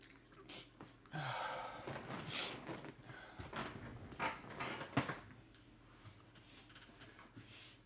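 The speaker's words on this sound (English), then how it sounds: "Sorry about the noise, my chair is squeaky." A squeaky desk chair creaking repeatedly close by, with irregular drawn-out squeals and groans from shifting weight over several seconds and no one talking.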